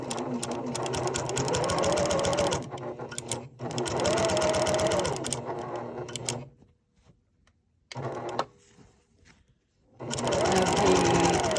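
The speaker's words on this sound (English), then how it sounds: "regular thread, all-purpose thread in the machine, and I have the stitch length set on 5. And I'm just going to stitch the entire length." A sewing machine with all-purpose thread and a long stitch length runs along shirt fabric to gather a ruffle, a close, steady whirring in long runs broken by short pauses and a stretch of near silence.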